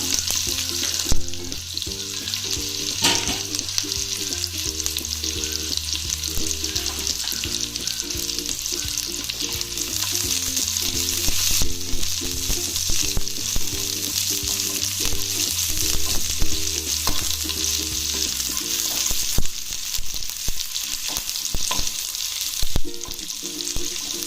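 Onion and mustard seeds fry in oil for a roasted-gram chutney, giving a steady, bright crackling sizzle with a few stirring knocks, under continuous melodic background music.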